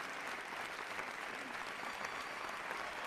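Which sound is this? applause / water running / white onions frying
applause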